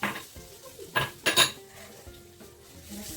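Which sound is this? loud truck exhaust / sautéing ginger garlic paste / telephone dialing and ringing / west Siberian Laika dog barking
sautéing ginger garlic paste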